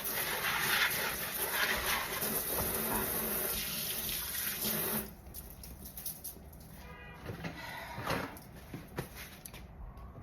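Running tap water rinsing houseplant leaves in a sink, a steady close splashing stream that softens halfway through into quieter trickling and patter.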